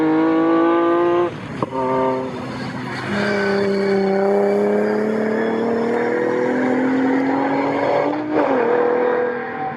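BMW race cars in a club sport trophy race at Snetterton circuit roar past close by, a loud engine note rising and falling in pitch as they sweep through, with continuous motor drone throughout.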